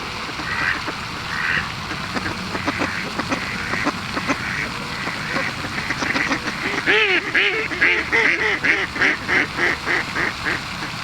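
A large flock of ducks quacks outdoors, with scattered calls at first that build into a dense run of loud, rhythmic quacks near the end, some goose-like honks mixed in, and no talking.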